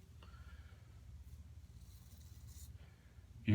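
Gillette Mach3 versus Walgreens EasyFit 3-blade razor being drawn across skin, a faint raspy scraping in steady repeated strokes, close and quiet, ending with a brief louder knock.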